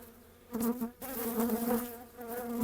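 Honey bees buzz around an opened hive during a frame inspection, a close, continuous droning hum that swells and wavers with no voices.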